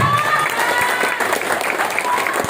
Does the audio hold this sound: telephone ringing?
no